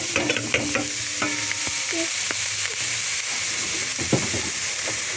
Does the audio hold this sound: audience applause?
no